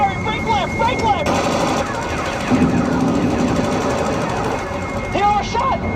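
Rapid machine gun bursts from a fighter jet in a dogfight crackle over a loud continuous jet roar, mixed with frequent excited radio-style voices and tonal beeps throughout.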